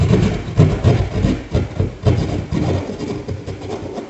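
A hand saw rasps back and forth through a wall while cutting an opening for a flush-mount TV box, making steady, close, rhythmic strokes with no talking.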